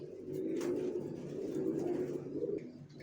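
Healthy vaccinated racer pigeons coo softly up close, low rolling throaty calls in overlapping bursts, with a brief flutter or scratch early on.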